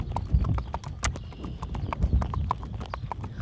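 A gaited horse moves downhill on an outdoor trail, its hooves clip-clopping in a quick, even rhythm of sharp close knocks that carry on steadily throughout with no one speaking.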